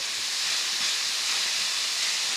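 Ground beef sizzles loudly in a hot pan on a small burner as it is chopped up, a dense, steady hiss of frying filling the whole moment without pause or speech.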